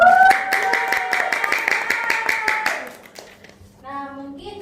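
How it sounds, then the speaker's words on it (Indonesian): Classroom applause during a micro-teaching lesson: a burst of hand claps, loud and close, with a sustained tone over it, then the clapping ends and a short voice-like sound follows. "Beri aplaus untuk kita semua"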